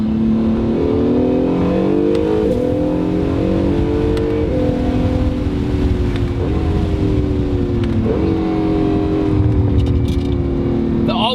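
A 2018 Acura NSX hybrid with all-wheel drive accelerates in third gear, its engine droning loud and close with rising tones and brief dips between pulls.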